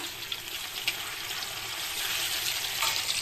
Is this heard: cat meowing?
no